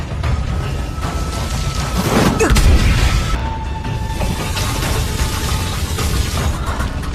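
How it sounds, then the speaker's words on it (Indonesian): A medicine concoction explodes in a Chinese donghua fight scene, a loud sustained booming roar with a heavy low rumble peaking midway, dense noise continuing throughout without speech. "Bahkan Tuan Liu, Tuan Putri, dan Xiaoyan tidak bisa menghindari ledakan obat tersebut."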